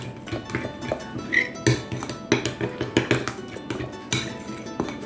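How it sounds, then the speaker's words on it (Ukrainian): A utensil stirs sauce for oven-baked chicken wings in a bowl, giving repeated clinks and scrapes against the sides in an uneven rhythm, close and fairly loud. "І зараз гарненько ось так нам потрібно це все гарненько перемішати, щоб воно все між собою подружилось."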